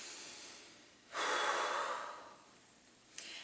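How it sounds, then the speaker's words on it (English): A single deep breath drawn in close to the mic during a guided relaxation exercise, a broad airy inhale lasting about a second, then a slow fading exhale and the start of another breath. "take a deep breath"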